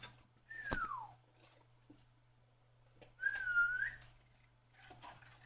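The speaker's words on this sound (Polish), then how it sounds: "już tak gwizdzę, no ale wydaje jakieś dźwięki" A couple of short whistled notes, one sliding downward and a later wavering one, with quiet pauses and faint background hum between them.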